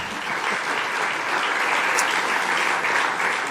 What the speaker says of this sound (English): Prime Minister Rama, dear Eddie, needs an applause.